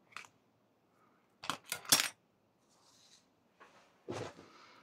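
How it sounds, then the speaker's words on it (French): Scissors snipping paper for a craft project, a few sharp crisp cuts clustered together with quiet gaps between, close and fairly faint. "je vais peut-être couper avec les ciseaux pour la colle"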